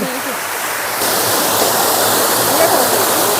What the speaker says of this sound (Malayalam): വെള്ളത്തിന്റെ കളകള ശബ്ദം